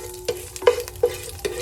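Whole cloves, cardamom pods and cinnamon sizzle in hot coconut oil in a pan for a chicken karahi, with four evenly spaced stirring scrapes rising over a soft, steady frying hiss, close up and with no talking.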